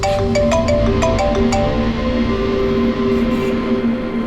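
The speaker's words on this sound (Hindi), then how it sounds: "डॉक्टर सालुंकी का फोन था" A mobile phone ringtone plays loudly and continuously, its steady tonal melody repeating throughout, with a few sharp clicks at the start and no voices over it.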